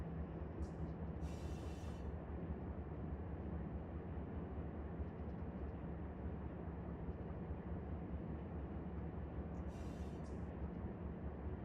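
A freight train rumbles steadily in the Run 8 train simulator on the Cajon Pass, with a constant loud low drone throughout and brief hissing bursts near the start and end.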